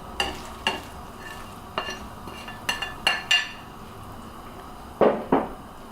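Potatoes and shredded cabbage drop into a borscht pot as a string of soft thuds and light clinks of pot and utensil, spaced irregularly and fairly quiet, with no talking.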